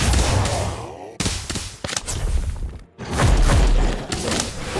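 Repeated Sectum Sempra slashing spell casts in a Harry Potter video game: loud, close percussive blasts and thuds in quick succession, broken by two sharp silent cuts before another heavy burst.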